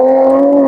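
A loud, steady engine drone with a strong humming tone, brief and close, like a car rolling past.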